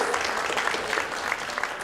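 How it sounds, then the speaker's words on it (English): Steady applause from an auditorium audience at the Sahyadri Hospital Momstory launch event, an even wash of many hands clapping throughout with no voices over it. "Let's have a round of applause."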